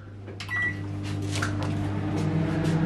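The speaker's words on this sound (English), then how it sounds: "Let's get that microwave turned on." A microwave hums steadily after a door thud and a short beep, with a few clunks and clicks near the start.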